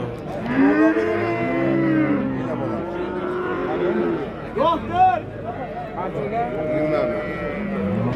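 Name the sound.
cow mooing at a livestock market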